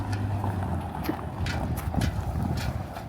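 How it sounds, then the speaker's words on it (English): Wind buffets the microphone in a steady low rumble, with gusts swelling and easing throughout, outdoors beside a Ford F100 Bullnose pickup truck. "So windy, sorry."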